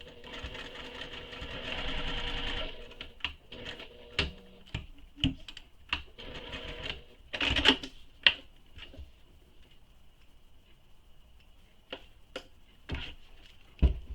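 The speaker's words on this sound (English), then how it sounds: "You're then going to stitch this with the seam allowance given in the pattern" A sewing machine stitches a seam on a tote bag, starting with a short steady run and then breaking into scattered clicks and brief bursts, quiet and close, with no talk.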